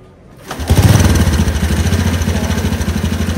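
A small old car engine starts up and settles into a loud, throaty idle, its exhaust chugging in a steady pulsing rhythm close by.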